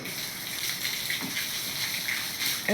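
Steady rushing, splashing water while washing a vehicle, continuous and fairly close, with a few brighter spray bursts and no talking.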